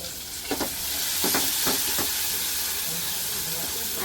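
Finely chopped onion fries in very hot oil with asafoetida and bay leaf, a steady bright hiss and sizzle with a few clinking stirs early on, moderately close, with no one talking.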